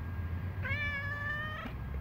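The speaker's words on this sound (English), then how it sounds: "Where's my cat?" A cat meows once in a garage workshop where a car frame is being repaired, a single clear drawn-out cry at moderate distance over a low background hum.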